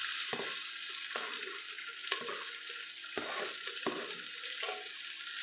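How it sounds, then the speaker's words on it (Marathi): Chopped tomatoes fry with cinnamon, cloves and pepper in a dense, hissing sizzle close by, broken by regular stirring scrapes and taps against the pan. "यांना टोमॅटोला 2 मिनिटं तळून घेऊया व याला चांगलं फ्राय करून घेऊ"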